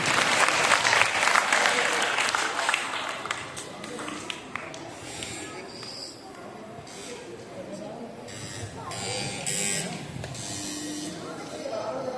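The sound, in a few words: audience applause at a quiz competition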